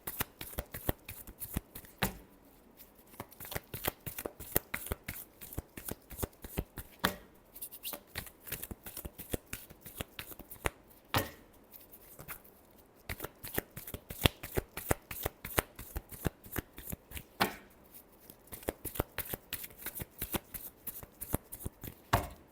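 Tarot cards shuffled by hand, a long series of crisp riffling bursts and slaps in an uneven rhythm, close and clear.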